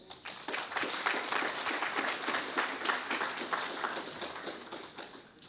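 Steady crowd applause fills an awards ceremony hall at East London Mosque, many hands clapping at an even level before tapering off near the close.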